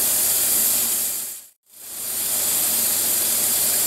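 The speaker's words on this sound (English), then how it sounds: "this is riding on the steam, and it needs to just give me a little rattle or two a minute" Steam hisses steadily from a pressure canner's weight regulator while meat is canned, a loud broadband rush that briefly cuts out near the middle before resuming; no distinct rattle stands out.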